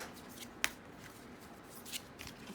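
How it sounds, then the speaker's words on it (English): A deck of oracle-style reading cards is shuffled by hand, giving soft papery riffles with one crisp snap near the start and a few lighter flicks afterward. "Let's shuffle the deck"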